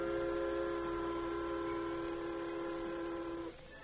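A steam train on the Union Pacific line sounds a long, steady whistle in several layered tones, held for about three and a half seconds before cutting off abruptly, leaving a low rumbling hiss underneath.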